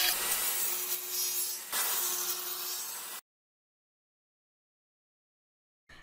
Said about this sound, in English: so we took them to a miter saw to make two quick cuts